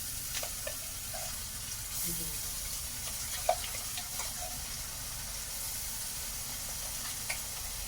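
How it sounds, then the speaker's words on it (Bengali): Onions fry in a pan as a paste of ginger, garlic, onion and green and dried chillies is added. The sizzle is a soft, steady hiss with faint clinks and scrapes of stirring. "পেঁয়াজটা ভাজা হয়ে গেছে, এখানে দিয়ে দেবো মশলা"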